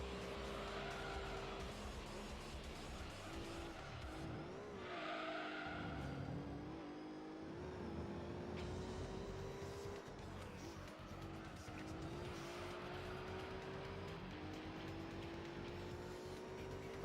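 A turbocharged Renault Clio race car in Gran Turismo 3 drones steadily at high revs, its engine pitch rising and dipping through gear changes, with faint tire noise underneath.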